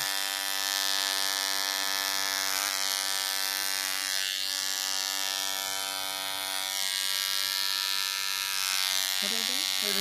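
An electric clipper buzzes steadily and loudly close by while shaving a head down to zero, its tone wavering slightly as it moves across the scalp, with voices chatting and laughing over it.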